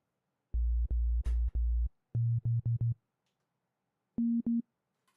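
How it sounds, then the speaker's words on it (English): Synthesized sine wave tones in a music production session: deep, pure pulses in quick rhythmic bursts, then a short pair at slightly higher pitch, clean and isolated against silence. "So first, let's start with a sine wave."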